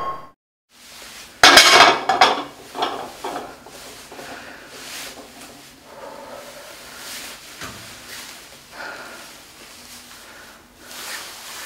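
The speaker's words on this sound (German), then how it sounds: "Hier muss noch eine Pfanne gespült werden." A frying pan being washed up in a kitchen sink, with loud metallic clatter and clinks near the start, then a softer, uneven series of scraping and knocking sounds close by.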